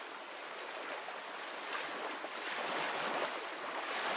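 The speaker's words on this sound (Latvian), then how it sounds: "Jūra" Sea waves wash in a steady, broad hiss of surf that swells slightly louder toward the end, with no voices over it.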